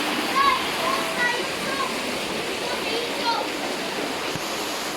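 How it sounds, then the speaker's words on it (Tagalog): Floodwater rushes steadily toward a house during a flood, a loud continuous roar of flowing water, with a person talking over it. "it's flooding here in our house. Look, see that? It's coming to the house."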